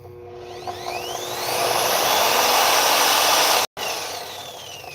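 An Evolution saw starts up and runs, a loud steady motor whine that rises and holds, cuts out briefly near the end, then resumes at a lower level.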